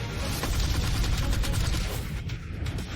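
A gold-plated MP5 submachine gun fires in an animated dungeon fight scene, a dense, loud, sustained burst of rapid shots blurring into one continuous roar, briefly thinning near the end.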